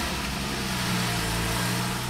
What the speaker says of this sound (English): I don't think I've ever revved a Boxster. Yep, a Boxster S nonetheless.